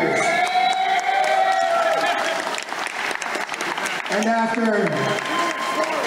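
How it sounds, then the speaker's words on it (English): Crowd applause and cheering after a Muay Thai bout, steady loud clapping with whoops and shouts throughout, while an announcer's amplified voice speaks over it, with a rising shout near the end. "please, a round of applause for both these epic warriors."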